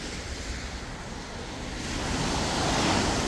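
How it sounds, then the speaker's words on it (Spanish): Strong ocean surf at a sandy beach at dawn, a steady broadband roar of breaking waves with wind noise on the microphone, swelling louder in the last second. "El mar ahorita como que está súper fuerte."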